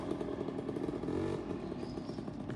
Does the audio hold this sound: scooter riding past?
yes